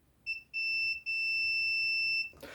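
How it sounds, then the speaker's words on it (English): Multimeter continuity tester beeping on an intact wire, a clear high electronic tone in three bursts: a short beep, a brief gap, then a longer sustained beep cut off by a faint rustle. "it'll beep if it's less than 50 ohms. So what we would expect is that a wire, if it's intact, will beep."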